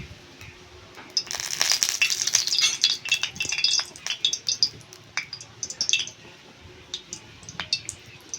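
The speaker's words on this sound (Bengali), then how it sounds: "কড়া গরম হয়ে গেছে, কড়াতে দিয়ে দিচ্ছি সর্ষের তেল।" Mustard oil hits a hot kadai and is swirled around the pan, giving a burst of crackling sizzle with metallic scraping and rattling. The popping thins into scattered ticks toward the end.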